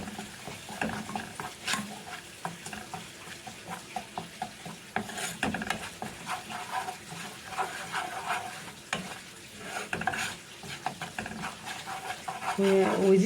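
Ingredients browning in a frying pan for an economical pasta white sauce, with steady soft sizzling and occasional spoon stirring scrapes throughout, a voice talking over it.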